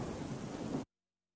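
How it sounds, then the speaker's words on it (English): Steady rain sound effect played back in DaVinci Resolve, a dense broadband hiss with a low rumble, fairly quiet and continuous, stopping abruptly after less than a second. "That's the sound of the rain."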